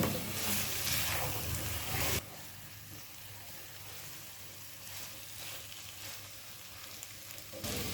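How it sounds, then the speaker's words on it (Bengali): Rita fish pieces frying with spices in a pan make a loud, close sizzle for the first two seconds, then settle into a softer, continuous hiss with light stirring. "মাছের টুকরোগুলো দেওয়ার পর হালকা হাতে মশলার সাথে কিছুক্ষণ নাড়াচাড়া করব"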